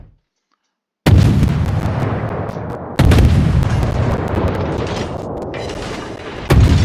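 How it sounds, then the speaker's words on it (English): Torpedo hits detonate against a ship in World of Warships, two heavy booming blasts in quick succession after a brief silence, followed by sustained rumbling roar and a third blast near the end. "Oh, I got him with the torpedoes."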